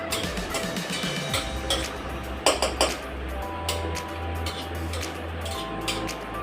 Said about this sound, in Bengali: সর্ষেটা দিয়ে দেবো ফোড়নে। একটু নাড়বো